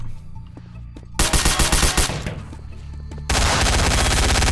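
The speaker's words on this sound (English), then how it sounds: "They're shooting directly through it." Gunfire rings out in the Garry's Mod DarkRP video game: a rapid burst of loud automatic shots, then a stretch of messier firing, then dense sustained fire to the end, with no talking.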